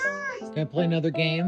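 A house cat meows loudly and repeatedly in long, drawn-out calls close to the microphone, with a voice speaking briefly between the cries.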